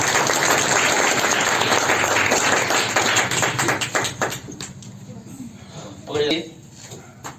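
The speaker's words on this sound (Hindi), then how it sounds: "इनके जोरदार ताली मार दें कम से कम" Students at a science-class quiz event clap loudly for the winners, a dense burst of applause that thins out after about four seconds, with voices talking over it.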